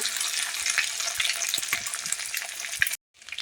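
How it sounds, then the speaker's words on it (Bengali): An egg fries in a pan with dal spices, giving a loud, dense crackling sizzle with scattered pops and stirring taps before cutting out abruptly near the end. "ডিমটা আমি এর সঙ্গে দিয়ে নিই সেটা সুন্দর করে ভেজে নেব"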